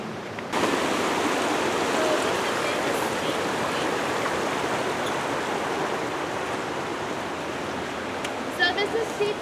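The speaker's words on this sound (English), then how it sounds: "So this is Sheep Creek." Sheep Creek in Alaska, a salmon spawning stream, flows as a steady, broad rush of water heard close and continuous, with faint voices near the end.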